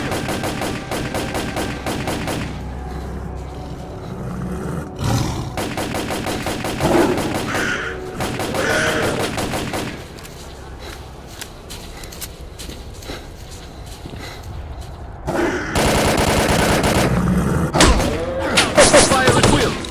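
Gunfire in the S.T.A.L.K.E.R. video game, set while leaving Pripyat, bursts out in dense loud volleys at the start, middle and end, with voices and game noise between the bursts.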